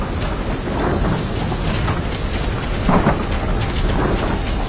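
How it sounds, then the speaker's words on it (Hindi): A heavy thunderstorm pours loud, dense rain with rolling thunder rumbling underneath, a constant roar with no voices. "उसी रात उमेश और पूनम उस भयानक गरज में एकदम शांति से सोते रहते हैं।"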